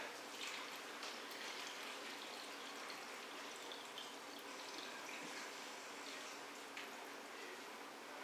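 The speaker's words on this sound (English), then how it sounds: "And now we'll put in as much water as we can fit." Water runs steadily into a cooking pot being filled for beef broth (caldo de res), a continuous close splashing rush lasting the whole stretch with no talk.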